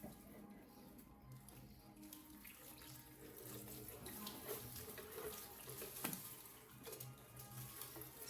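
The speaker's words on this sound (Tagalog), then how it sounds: "Magdidilig muna ako ng mga halaman guys." Water runs steadily from a tap or hose as potted plants are watered outdoors on a windy day, a continuous moderate splashing flow with a brief louder spatter near the end.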